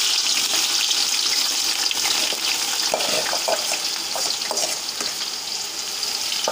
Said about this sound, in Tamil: இந்த வெங்காயம் அப்படியே கொஞ்ச நேரம் அப்படியே ஃப்ரை ஆகட்டும்